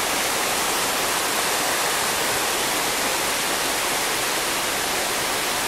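Todtnauer waterfall in the Black Forest of southern Germany, a steady, dense roar of falling water that fills the whole stretch evenly and loudly, with no voices over it.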